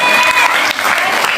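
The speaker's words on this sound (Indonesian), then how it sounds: "Tepuk tangan untuk Ustaz Suparman" An audience claps for Ustaz Suparman at a study session on the Islamic jurisprudence of marriage, a brief, dense burst of applause that fills the room.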